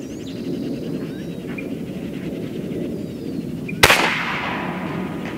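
A single sharp crack from a Challenger Pro 357 PCP air rifle firing a slug outdoors at a range, one loud shot with a brief decaying tail over steady background hiss.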